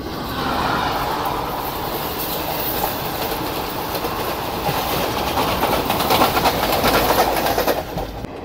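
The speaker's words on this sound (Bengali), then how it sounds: "আমাদের ট্রেন কিন্তু এখন ক্রস করছে হচ্ছে মৌরাক্ষী নদী" A train rumbles across a bridge over the Mourakshi river on the Tarapith to Kolkata line, with steady broadband clatter and wheel noise close by, growing slightly louder toward the end.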